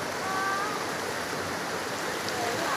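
A creek at a campsite in Thai Prachan National Park, Ratchaburi, flows with a steady broadband rush of water, constant and moderately loud, with no speech.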